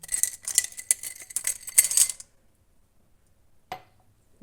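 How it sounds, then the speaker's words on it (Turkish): Small hard peas rattle into a metal pot for about two seconds, then silence broken by a single clink. "bir su bardağı bezelyemi tencereme alıyorum"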